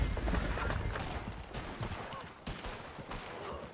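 Rapid game gunfire crackles through a busy, dense mix, with bursts of shots layered over constant action noise and some voice chatter underneath.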